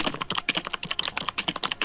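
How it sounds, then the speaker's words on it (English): Fast, uneven clacking of a computer keyboard being typed on nearby, keys tapping in quick bursts with no talking. "Dan, sorry for the typing"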